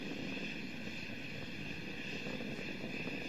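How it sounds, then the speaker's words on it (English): Space Shuttle Discovery's main engines during the STS-116 launch climb, heard as a steady, broad, fairly faint rumbling roar with no breaks, and nobody talking over it. "Three good engines throttling back to 2/3 of the rate of thrust."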